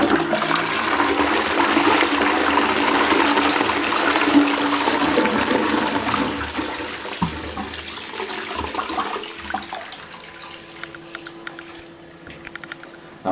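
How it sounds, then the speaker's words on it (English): A 2014-2015 Armitage Shanks Sandringham toilet flushes powerfully up close, a loud rushing surge of water that gradually tapers into trickling and refilling. "Now that is a very powerful flush."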